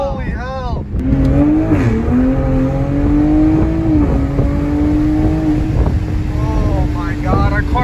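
A 500-wheel-horsepower Toyota Supra driven hard, its engine droning loud and close with a rising, wavering tone and surges of revving, while voices talk over it inside the car.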